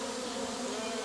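A steady, close buzzing of bees hums without pause, dense and even throughout.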